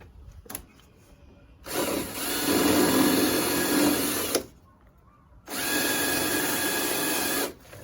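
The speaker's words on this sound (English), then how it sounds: "let's drill out the rivets" A power drill whines loudly in two long bursts with a short pause between, biting into metal as rivets are drilled out of a driver side window motor assembly on a Mercedes ML-class SUV.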